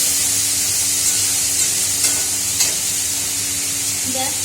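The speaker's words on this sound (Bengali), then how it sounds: "একটু ভাজা ভাজা হয়ে গেলেই হচ্ছে" Cabbage, onion and green chilli fry in a pan with a steady, broadband sizzle that runs the whole time, with a few faint stirring clicks and scrapes and no talking.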